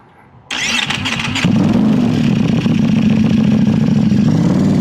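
A tuned Ducati Panigale V4S motorcycle cranks briefly on its starter, then its engine catches and settles into a loud, steady, close-up idle.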